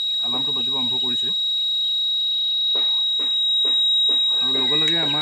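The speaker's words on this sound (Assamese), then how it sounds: "টেম্পাৰেচাৰ বাঢ়ি যোৱাৰ লগে লগে ইয়াত এলাৰ্মটো বাজিব আৰম্ভ কৰিছে" A Thermo Guard 360 poultry-farm temperature monitor sounds its alarm as a continuous, piercing high-pitched beep that holds steady throughout while a person talks over it nearby.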